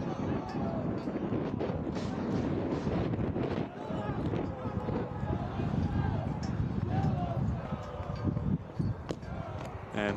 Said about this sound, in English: I don't think I need to tell you that it is a rather windy night at Finley Stadium